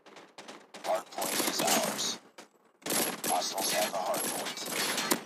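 A Renetti gun fires in a video game in two rapid bursts separated by a short pause, loud and close, with a voice faintly present underneath.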